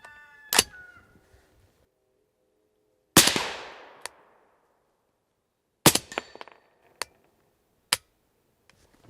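A 300 Blackout rifle firing a mix of supersonic and subsonic rounds outdoors, several sharp separate cracks spaced seconds apart, each with a short decaying echo, including metallic clicks and one empty-chamber moment.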